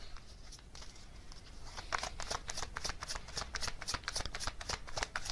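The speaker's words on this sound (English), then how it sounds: "let's get some oracle cards for some more context here" A deck of oracle cards is shuffled by hand, with a soft riffling start building into a quick run of crisp, rhythmic card flicks, close and clear, with no talking.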